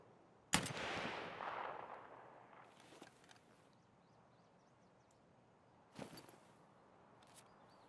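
A sniper rifle fires in Escape from Tarkov on the Customs map, landing a headshot at about 100 meters: one sharp crack with a rolling, fading echo, then a second, shorter shot several seconds later.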